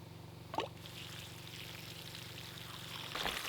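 Water pours from the pipe of a solar-powered pump at a hand-dug well, a faint steady splashing stream with a couple of brief louder gushes.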